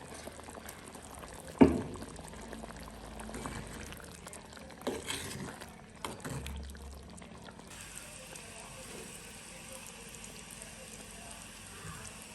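Paneer pieces bubble and sizzle steadily in oil at low volume, with a few soft knocks and clatters from utensils partway through.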